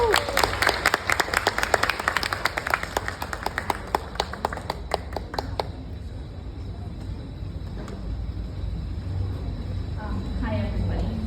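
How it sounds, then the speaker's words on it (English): An audience gives a round of applause welcoming a scholar representative to the stage at a scholarship event, with dense, loud clapping for about five seconds that then thins out and fades into room noise. "please join me in giving a huge round of applause to welcome our Cohort 4 scholar representative, Jasmine,"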